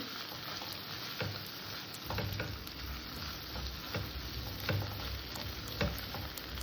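Fish sautéing in a pan gives a continuous, close, loud sizzle and frying hiss, broken by faint scrapes and ticks of stirring, with no voices.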